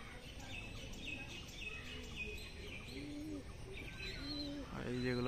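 Domestic pigeons at a home loft, with a visiting stray pigeon among the household birds; soft repeated cooing and chirping calls sound close over steady background noise, with a louder burst of calls near the end.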